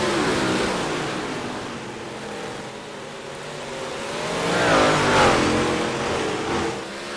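Big block modified race cars racing at Oswego, a loud roaring pack of engines that fades slightly then swells again as cars sweep past nearby, with a rising and falling revving pitch.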